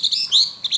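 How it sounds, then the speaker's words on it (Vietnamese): A caged Chinese hwamei songbird sings close up in a bright run of quick whistled phrases and chirps with short gaps between them, heard alone without talk. "Bên phải này chính là em họa mi"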